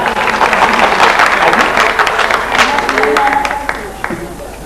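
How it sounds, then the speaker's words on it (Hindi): Loud applause from an audience at an AIDS-free India campaign event, dense and sustained with cheering voices mixed in, easing off near the end. "जोरदार तालियां।"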